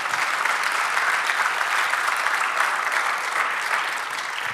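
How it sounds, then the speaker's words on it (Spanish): Church congregation applauding during a Spanish-language service, a dense, steady burst of many hands clapping at even volume that tapers slightly near the end, with no talking. "Dale el aplauso al Señor"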